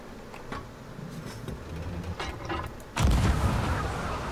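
In the Sea of Thieves video game, a single heavy gunshot booms near the end after quieter ambient game sounds with faint knocks beforehand.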